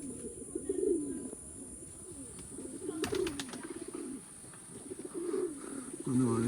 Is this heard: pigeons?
yes